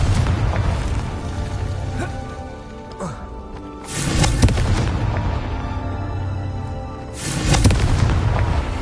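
Confringo fire-blast spell bursting in the video game Hogwarts Legacy, with loud booming explosive blasts over a rumbling game soundtrack, strong hits at several points and a voice speaking.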